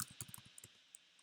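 Computer keyboard typing: a quick burst of close, crisp key clicks over about the first 0.6 seconds, then a few sparse isolated taps, quiet and alone with no voices.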